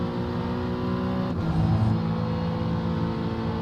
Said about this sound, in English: LMP2 coming through